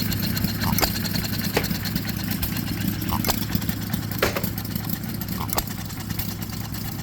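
A small John Deere hit-and-miss tabletop engine runs steadily nearby, a continuous low chugging hum with periodic sharper firing pops spaced about a second apart, loud and without speech.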